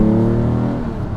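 A TVR Cerbera Speed 6 engine, a roughly 360-horsepower straight-six in a very light car, revs with a strong harmonic growl that holds steady, then fades and drops away near the end, heard close.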